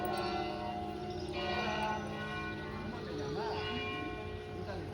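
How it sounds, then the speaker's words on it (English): Church bells clang steadily in a town square before Sunday Mass, sustained ringing tones layered with distant crowd murmur and faint voices. "And you hear the bells, maybe faintly, but the bells are clanging"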